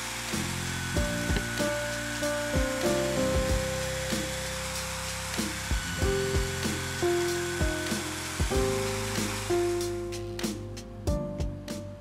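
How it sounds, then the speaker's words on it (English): Bandsaw cutting a steel knife blank, a harsh, continuous buzzing grind with tonal whine that pulses as the cut is pushed, ending in several sharp knocks. "I'm going to use the bandsaw to cut most of the material away"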